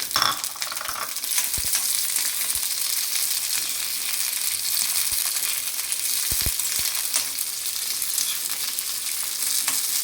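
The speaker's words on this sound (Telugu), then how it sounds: "వంకాయ పచ్చడికి ఒక మూకుడు పెట్టి ఆయిల్ వేసిన కొంచెం పచ్చిమిర్చి కట్ చేసుకొని వేసుకోవాలి" Green chillies frying in oil in a pan for brinjal chutney, a steady close sizzle throughout with a few faint clinks, no voices.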